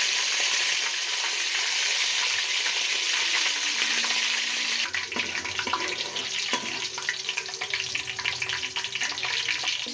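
Green chillies fry in hot oil in a pan, a steady close sizzle for the first half that turns into scraping, clattering stirring sounds with the frying still going underneath.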